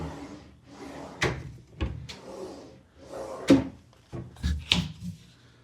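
Cabinet drawers in a hotel suite near Disney Springs being pulled open and pushed shut, several wooden slides and sharp knocks spaced a second or so apart, close by and alone.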